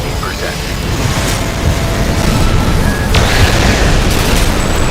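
Continuous rumbling detonation and blast noise in Armored Core 6 during a chaotic mech battle, loud and dense throughout with scattered impacts, under a speaking voice.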